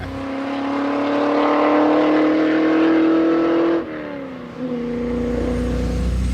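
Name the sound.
Triumph TR3A car driving out of pit lane onto race track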